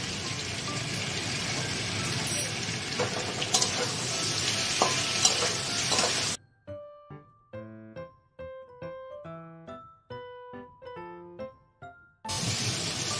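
Shukto vegetables (raw banana, papaya, potato) frying in a pan with ginger paste give a dense, steady sizzle with stirring scrapes for about six seconds, then the sound cuts to quiet with sparse tonal plucks before the sizzle returns briefly at the end.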